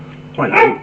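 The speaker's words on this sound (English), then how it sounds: "that's the dog barking" A dog gives a single short bark close by while someone talks over it.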